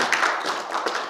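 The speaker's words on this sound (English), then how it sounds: "can we please give him another round of applause?" A burst of audience clapping at a Nigerian-Indonesian investment and trade forum, dense and fairly close, filling about a second without voices.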